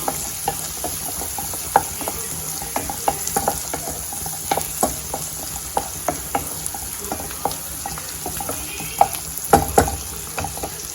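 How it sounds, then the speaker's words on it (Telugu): Ginger garlic paste fries in a pan, giving a steady sizzle punctuated by regular sharp scrapes and taps of a spoon stirring against the metal. "అల్లం వెల్లుల్లి పేస్ట్ పచ్చివాసన పోయేదాకా వేయించుకోవాలి"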